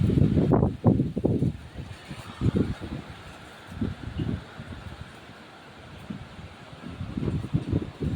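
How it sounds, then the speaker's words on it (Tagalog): Strong typhoon wind gusts roar and buffet in surges, loud at first, easing, then building again, with rustling and rumbling noise throughout. "Nakakatakot yung hangin."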